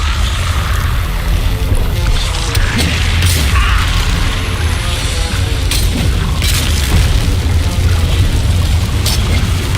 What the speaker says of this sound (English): If you do that, the explosion is inevitable.